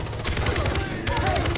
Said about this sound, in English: Oh, I'm getting shot at already